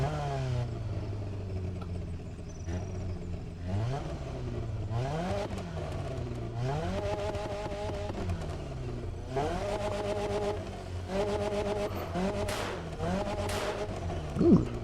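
A Nissan 240SX S14 in the racing game The Crew Motorfest starts up and revs repeatedly, its engine note climbing and falling in a series of loud, close throttle blips with mechanical clatter.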